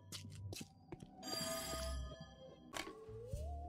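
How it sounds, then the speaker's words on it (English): A telephone rings in There Is No Game, bursts of bright trilling bell tones repeating a few times over quiet game ambience, moderately loud and near. "Pick up the phone, dammit!"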